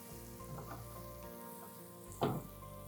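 Mushrooms sizzle steadily in a frying pan for a classic English breakfast, a soft continuous hiss with a brief sharp clatter of the pan or utensil near the end.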